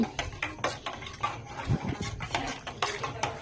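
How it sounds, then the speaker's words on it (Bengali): Coffee being stirred in a cup with a larger utensil in place of a small spoon, giving steady scraping and clinking against the cup in a close, continuous rhythm with no talking. "ছোট চামচ না পাওয়াতে আমি এটা দিয়ে এখন ঘাঁটছি"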